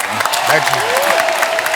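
Studio audience at a comedy show bursts into loud, dense applause and cheering, a continuous wash of clapping with a voice speaking over it.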